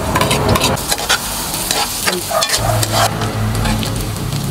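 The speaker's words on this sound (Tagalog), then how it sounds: "magigisa na tayo ng bawang at sibuyas" Garlic and onion sauté in a hot pan, with loud, close sizzling and busy spatula scraping and stirring that carries on without a break.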